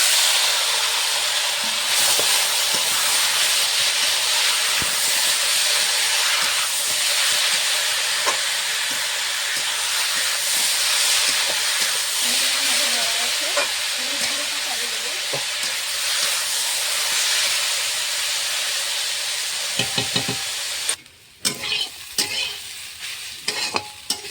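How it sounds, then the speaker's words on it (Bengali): Taro pieces frying slowly in mustard oil in a pan, a steady broadband sizzle with occasional stirring clicks, close and continuous, briefly dropping near the end. "কচুটা আমি আস্তে আস্তে জালে ভেজে নিয়েছি অনেকক্ষণ।"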